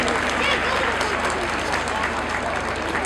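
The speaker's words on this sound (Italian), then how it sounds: "un applauso anche per loro" An audience applauds the musicians Giuseppe Pintus and Antonio Pilo at a book presentation, a steady, even wash of clapping throughout, with a voice faintly mixed in.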